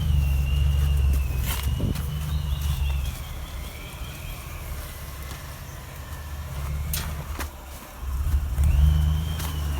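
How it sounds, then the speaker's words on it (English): A supercharged V6 Toyota 90 series 4WD on KO2 tyres crawling an off-road forest track in Cobaw State Forest, Victoria, its engine droning and revving nearby with surges, some rumbling and insects in the background. "here comes the fourth sucker for punishment, the supercharged V6 90 series"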